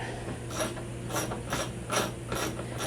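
Ratchet wrench tightening bolts while an IMS fuel tank is fitted to a motorcycle in a home garage, giving quiet, continuous clicking with a regular pulsing rhythm about every half second, close by and with no voices.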